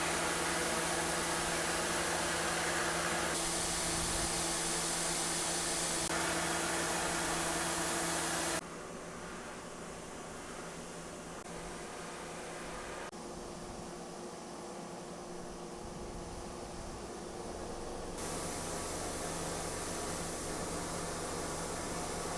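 CNC mill roughing a slot in a screwdriver, a steady close whirring and hissing machine noise that drops quieter partway through, then rises again in distinct stages.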